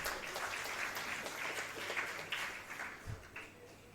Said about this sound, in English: So really a great round of applause for the institute.